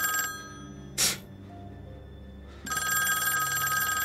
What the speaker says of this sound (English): Big ass 1970s phone.